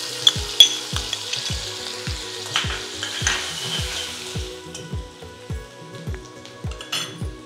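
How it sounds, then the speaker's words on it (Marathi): Finely chopped onion sizzling in hot oil for a Marathi pea curry tempering, with a steady fry hiss and a regular series of spoon scrapes against the pan, close and clear with no talk. "बारीक चिरलेला एक हा कांदा आहे तो टाकते फोडणीला"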